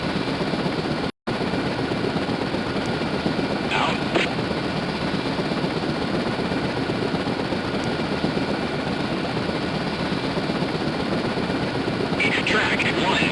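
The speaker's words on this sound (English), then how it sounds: "Ah, finally, helos." Helicopters in the naval combat game SCS Fleet Command give off a steady, dense rotor and engine drone that holds through the whole stretch with one brief dropout, and a few faint tonal blips sit on top.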